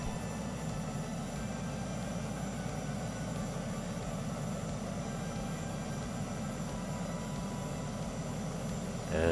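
A jet aircraft in SimplePlanes 2 runs its afterburner up against the brakes before takeoff, a loud, steady roaring engine drone that holds for several seconds without talk.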